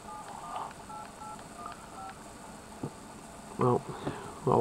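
Tones from a phone keypad being dialed, a few short beeps early then louder brief bursts near the end, faint and indoors with some background hum.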